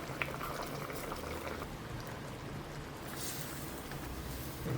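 Squash and string beans boil in a pot for a coconut-milk squash and crab dish, giving a steady, close, continuous bubbling with no speech.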